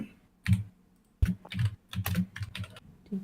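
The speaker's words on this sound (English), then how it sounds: "Your keyboard is really nice sounding, Twisted." Typing on a computer keyboard, bursts of crisp key clicks and clacks in irregular clusters separated by short pauses, close and clear with no speech over it.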